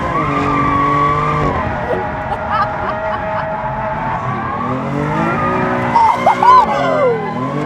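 A race car skids around a desert track in Greater Palm Springs, California, tires squealing in long sustained whines over a steady engine drone on a hot lap, with voices faintly mixed in.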